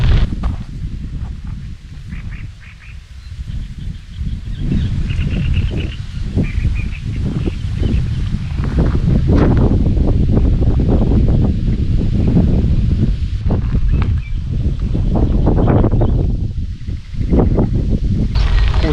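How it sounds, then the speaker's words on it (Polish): Strong headwind buffets the microphone while cycling, a constant low roar gusting steadily throughout with a faint rustle and no speech. "przeszkadza trochę ten wiatr, który wieje mi prosto w twarz"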